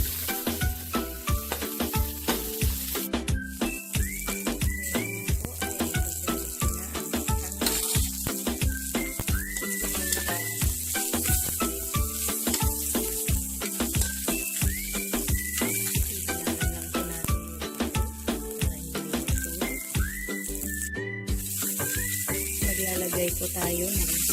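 Ginger and red onion fry in a pan with a steady crackling sizzle for cooking fish tinola, punctuated by repeated scraping stirs, and music plays underneath throughout.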